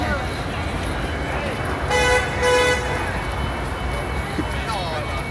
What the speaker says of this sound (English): honk at the cops